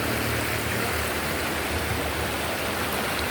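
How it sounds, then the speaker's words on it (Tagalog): A small waterfall with a strong current at a hidden resort in Infanta, Quezon, roaring as a dense, steady rush of falling water, loud and close with no other sounds. "Maliit lang na falls pero sulit na rin. Para kami namasahe sa lakas ng current ng tubig."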